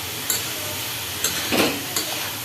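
Soybean chunks, fried beforehand, are stirred into a spiced pan with chili powder, giving a steady close sizzle broken by several quick scraping strokes of a spoon against the pan.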